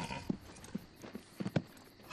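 Horses' hooves clip-clopping in a period Western drama set near San Francisco, with several uneven hoofbeats over about two seconds at moderate distance and no talk.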